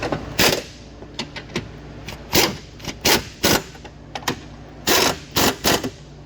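An impact gun on a 2012 Chevrolet Cruze fires in short, sharp rattling bursts while it tightens bolts. About a dozen quick blasts are separated by brief pauses, loud and close.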